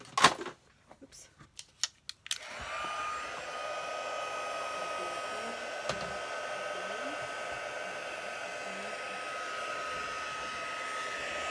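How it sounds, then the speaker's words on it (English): A craft heat embossing tool switches on after a few clicks and blows a steady, fairly close whoosh of hot air that holds on without a break to the end. "Then I'll take my heat tool."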